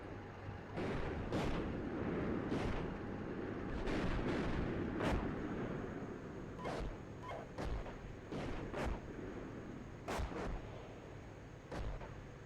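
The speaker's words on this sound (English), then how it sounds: "At first I thought it was overshoot, but now it's clearly mortars." Mortar rounds landing in the tank simulator Steel Beasts Pro PE, a dozen or so sharp booming impacts at irregular intervals over a continuous rumbling battlefield background, some nearer and louder than others.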